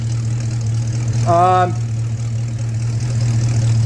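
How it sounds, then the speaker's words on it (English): A 1953 Ford F100 hot rod with a stock 5.0-liter HO Ford V8 idles through 2 1/4-inch dual exhaust with an H pipe, Flow Pro mufflers and megaphone tips, giving a steady low rumble. A brief tonal sound rises over it midway. "it's a stock 5-liter HO. It's got 2 1/4 duals with an H pipe."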